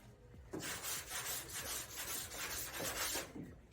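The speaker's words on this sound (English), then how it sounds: "Trying to stretch how long I can use this sandpaper because I glued it on." Glued-on sandpaper rubs back and forth over a car hood in steady, close, rasping strokes, loud and continuous for several seconds with no voices.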